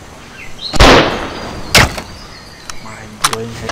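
Gunshots in the mobile hunting game Dinosaur Hunter 2019: two loud, sharp synthetic blasts about a second apart, followed by fainter mechanical clicks and reload-like clatter.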